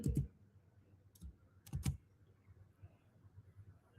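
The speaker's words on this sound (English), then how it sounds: "I'm typing" Faint, sparse keyboard clicks sound in a few short bursts, with quiet pauses between them, close and soft.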